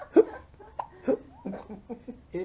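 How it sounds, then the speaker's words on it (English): A young girl hiccups repeatedly in short, sharp bursts spaced irregularly, close and fairly clear, with a faint giggle-like tone between them. "You got me hiccuping too."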